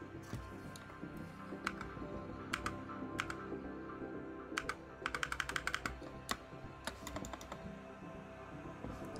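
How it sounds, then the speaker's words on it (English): Computer keyboard keys clack in quick bursts and single taps, close and fairly quiet over a background of soft game music during a Tetris Effect stream, with clusters of rapid strokes between pauses. "And my keyboard's a little slow."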